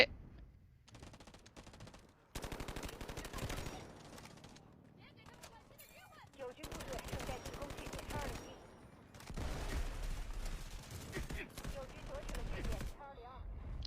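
Bursts of automatic gunfire from an AK-12 rifle in the shooter game Delta Force, loud and repeated in several long volleys with short pauses, mixed with other battle noise.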